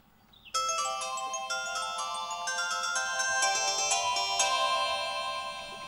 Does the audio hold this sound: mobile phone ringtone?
yes